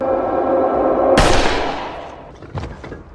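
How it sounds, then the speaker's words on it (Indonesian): A single sharp gunshot from a film cracks out over a sustained tone, followed by a fading echo and a couple of softer thuds. "tiba-tiba saja sebuah peluru langsung menyasar ke Skersen dan membuatnya tewas seketika"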